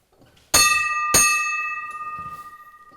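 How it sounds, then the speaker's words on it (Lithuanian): A single church bell in a Lithuanian church is struck twice, a little over half a second apart, each loud metallic clang ringing on with a long, slowly fading hum and no voices over it. "Varpų skambėjimas bažnyčiai natūralu."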